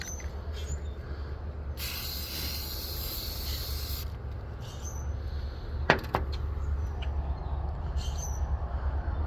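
Spray paint hisses onto an Estes Hi-Flier XL model rocket in a steady two-second burst, followed by quieter handling noises and a couple of sharp knocks, over low background hum.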